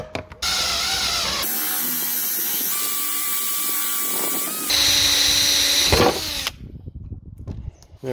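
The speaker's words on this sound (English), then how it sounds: "we're going to put this through that piece of wood" Power drill fitted with a wood hole cutter bores through a piece of plywood resting on tile, a loud, steady grinding whir with a shift in pitch midway, then it winds down and stops, leaving faint clatter.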